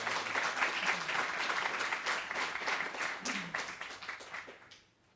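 Audience applause filling a lecture hall to welcome the speaker at a university lecture, steady and sustained for several seconds before tapering off to silence at the end.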